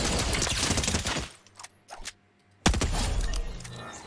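A white twin mag SMG fires in Fortnite, rapid dense bursts loud at the start, breaking off into a few scattered shots and near-silence before a loud sustained stream of fire resumes.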